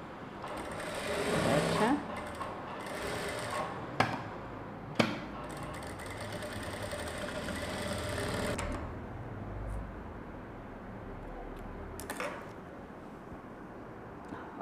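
A sewing machine stitches a plain blouse during a tailoring lesson, running steadily and loudly close by with short pauses and a few sharp clicks, while someone talks over it.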